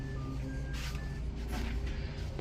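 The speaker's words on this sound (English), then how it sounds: "The usual beeping when you turn everything on." Simrad marine electronics aboard a Sea Ray 400 SLX boat give a few faint, short beeps at power-on, half-buried under a loud, steady low hum and rumble.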